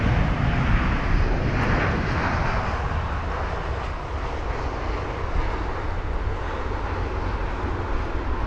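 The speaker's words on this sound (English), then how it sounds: "So this is going to be flight number BA288 for the British Airways A350-1000 from Phoenix" A British Airways Airbus A350-1000 jet on flight BA288 from Phoenix lands at London Heathrow, a loud, steady, broad engine roar that stays close and constant throughout, with no talking.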